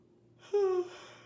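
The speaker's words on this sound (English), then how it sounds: "I say this as I yawn" A single short, voiced yawn from a woman, close and soft, rising briefly out of a quiet room and trailing off in under a second.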